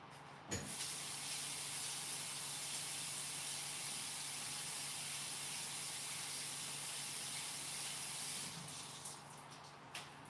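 Lemon rinsed under a running kitchen tap, a steady close hiss of flowing water lasting about eight seconds before cutting off, no voices.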